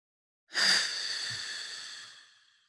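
One long breathy exhale, soft and close, begins abruptly and trails off gradually over about two seconds in a quiet guided breathing meditation.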